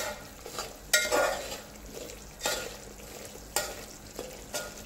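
Kolhapuri tambda rassa masala is stirred and fried in a pan, with a soft continuous sizzle punctuated by several sharp spoon scrapes against the pan at irregular intervals, close and moderately loud.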